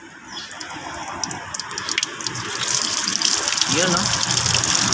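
Engine coolant gushes and splashes as it drains from a Mitsubishi Montero Sport, a steady pouring that builds slightly over a few seconds while people talk nearby.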